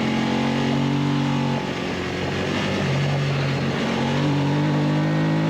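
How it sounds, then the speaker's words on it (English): A Formula 3 race car engine screams near its rev limiter during a race, loud and sustained from onboard. The pitch holds high, dips briefly around a gear change, then climbs again. "I need to hold the throttle on. I'm almost getting up to the rev limiter."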